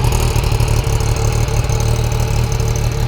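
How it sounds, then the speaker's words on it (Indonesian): A 675cc three-cylinder MV Agusta F3 Oro motorcycle engine running, a loud, deep, steady close-up roar held with little variation and no talking. "Kalau kita gas seperti ini suaranya."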